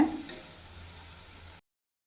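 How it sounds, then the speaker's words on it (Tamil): A short burst of masala for okra tamarind curry sizzling in a pan, a steady soft hiss with a stir at the start, then it cuts off. "அந்த மசாலாவோட பச்சை ஸ்மெல் போகிற வரைக்கும் ஒரு ஒரு நிமிஷம் வதக்கிக்கோங்க"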